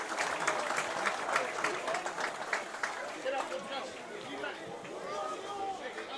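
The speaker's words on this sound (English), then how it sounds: "Good applause from the crowd" A crowd at a high school football game between Leavitt and Lawrence claps and cheers steadily from a distance, dense applause mixed with background chatter, tapering slightly toward the end.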